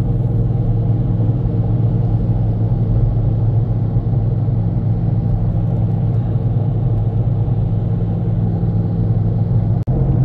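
A Toyota car with a semi-automatic MMT gearbox showing faults P0810 and P0900 cruises in third gear, its engine giving a steady, close, continuous low rumble that holds even throughout, with a single brief click near the end and no talk.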